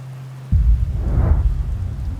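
Steady rain falls in Outer Wilds, a continuous broadband wash that swells in with a low rumble after a brief humming lull, staying even and fairly loud without any talk.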